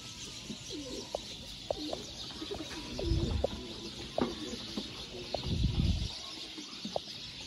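Domestic pigeons of fancy breeds coo in several low bursts, two louder rumbling coos standing out near the microphone, with scattered chirps and a steady background hiss.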